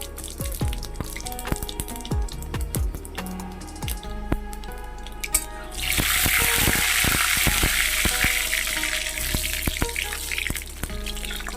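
Crackling sizzle of dried red chillies and panch phoron hitting hot oil, starting quietly with scattered drips and pops, then bursting into a loud, steady hiss midway.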